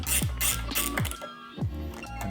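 A screw on the cable clamp of a road bike brake is loosened, giving three short bursts of ratcheting mechanical clicks spaced about half a second apart, close and fairly clear, with no talking.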